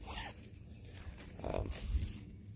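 A day pack's zipper rasps open and shut in a few quick pulls, close and fairly quiet, with soft fabric rustling.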